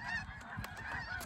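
Snow geese honk in a lively overlapping chorus during a goose hunt, several birds calling repeatedly at moderate distance with no one speaking.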